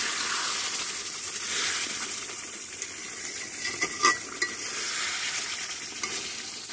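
Potol sundori curry cooks in a pan, a steady broadband sizzle with soft stirring scrapes and a few sharp clinks of a utensil against the metal, close and continuous with no voices.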